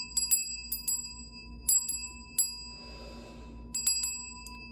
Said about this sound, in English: Spirit said ring my bell.